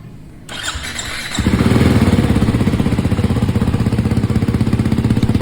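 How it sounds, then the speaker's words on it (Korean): A Ducati Hypermotard 698 motorcycle engine cranks and fires up, then idles loudly and steadily with a rapid, throbbing pulse, close by. "매장 직원분이 하이퍼모타드의 엔진 소리를 들려주겠다고 해서"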